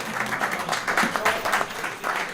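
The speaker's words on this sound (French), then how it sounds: "Je vous demande d'applaudir très fort pour les femmes d'XL." Audience in Ixelles applauding the women of the commune, a steady patter of clapping across the whole stretch with a few scattered voices mixed in.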